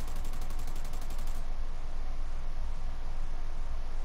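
Sustained game gunfire from the shooter America's Army: Proving Grounds, a dense continuous rattle of automatic fire that holds steady and loud from start to finish, with no break or quiet gap.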